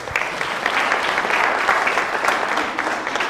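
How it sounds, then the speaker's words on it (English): An audience at an entrepreneurship tour event claps for a student author, a dense, steady round of applause of even strength throughout. "Let's give him a big round of applause."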